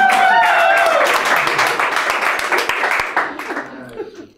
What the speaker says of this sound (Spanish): ¡Aplauso para Galder